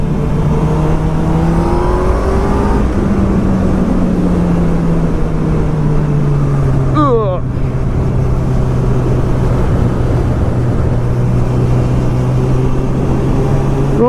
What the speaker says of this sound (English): enjoy this lovely exhaust pipe, because she's sounding good. This is the sound I wanted to have out of this bike